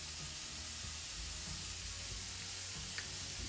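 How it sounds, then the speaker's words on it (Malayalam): Vegetables with salt sautéing in a pan, a soft continuous sizzle and hiss with light stirring clatter, faint and close. "ഉപ്പ് ചേർത്തിട്ടൊന്ന് വഴറ്റാം"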